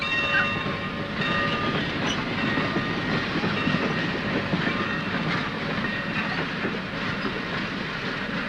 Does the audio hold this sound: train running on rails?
yes